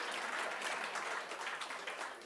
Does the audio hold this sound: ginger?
no